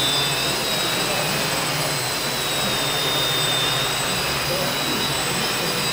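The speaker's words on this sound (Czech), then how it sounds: "Tam vidíte helikoptér." Five helicopters hover in the air together, a loud continuous roar of rotors and engines with a steady high whine held throughout, close and unbroken.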